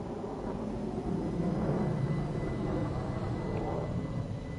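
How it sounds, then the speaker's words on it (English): Aircraft flying in near Gatwick in Train Sim World 2, a steady moderate engine rumble and hiss that swells slightly midway, distant and unbroken. "I can hear a plane coming in."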